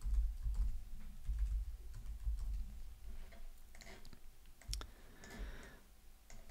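Fingers tap out text on a computer keyboard in a soft, steady run of light clicks, close by and quiet, over a faint low background hum.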